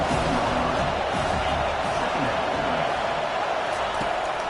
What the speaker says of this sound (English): the crowd going nuts